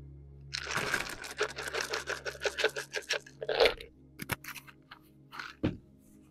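Dry kibble rattles and crunches in a quick, close pouring burst for Bailey's dinner, followed by a few scattered clicks and taps as the bowl settles.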